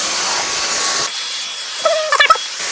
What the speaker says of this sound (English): Who doesn't love hoovering a little bit of carpet?